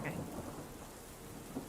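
Steady rain pours with a low rumble of thunder as an ambient storm effect in a tabletop role-playing game session, continuous and even throughout with no voices.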